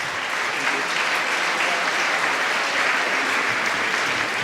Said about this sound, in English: One applause.